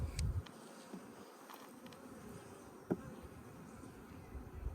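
Bees hum steadily at close range, a dense droning buzz with a few sharper knocks and rustles over it.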